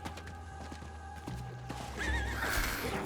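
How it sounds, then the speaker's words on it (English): A horse whinnies loudly as it is mounted in Diablo 4's Trudge of Echoes, with soft hoof clops leading into a rising neigh near the end. "Back onto the horse in the Trudge of Echoes again."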